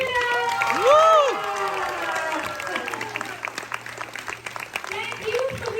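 Audience applause and cheering after a Matilda musical performance fill a hall, with voices shouting and whooping over steady clapping.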